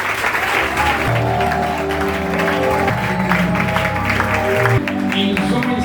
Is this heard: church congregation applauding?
yes